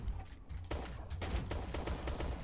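Gunshots in the Shell Shockers egg shooter game crack in quick succession, a sharp burst followed by a steady run of repeated shots at moderate loudness, alone without talk.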